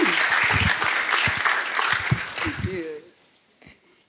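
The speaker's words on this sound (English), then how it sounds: "Please give her a round of applause" A workshop audience claps after a speaker's introduction, the applause loud for about three seconds with a voice speaking over it, then it cuts off into near silence.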